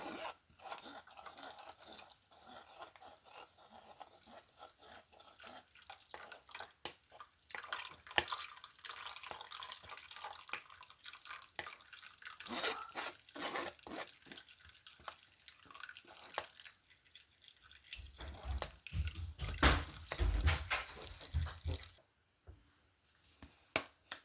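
Mandarin and bissap juice strained through a sieve, giving soft continuous dripping and trickling with light stirring and scraping, fairly quiet and close, with a low rumble near the end.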